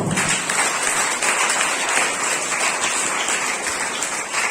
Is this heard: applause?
yes